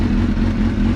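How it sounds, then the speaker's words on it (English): A motorcycle engine runs with a steady, low, throbbing rumble, loud and close, in a single short burst with no talking. "typical bike sounds, not too loud compared to other bikes I have seen"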